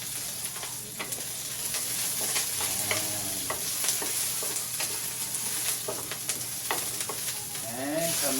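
Garlic, onion, chili and tomato sizzle and fry in a hot pan as a utensil stirs them, a steady close crackle with scraping strokes throughout, no talking.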